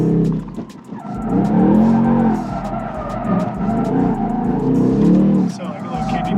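A Ford Mustang RTR being tested for Formula Drift drifts with its drift brake engaged, its engine roaring loud and close while tires squeal and skid in long sustained bursts.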